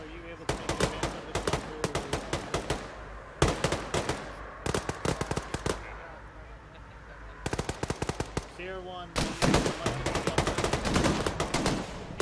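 Heavy .50 caliber machine gun fire in an Arma-style military video game, coming in repeated rapid bursts of loud, sharp reports across the whole stretch, with short gaps between volleys and some voices heard faintly beneath.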